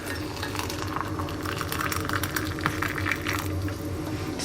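Hot water is poured from a kettle onto loose leaf rhubarb tea in a cup, a continuous splashing trickle with faint clinks of crockery, fairly close and steady throughout.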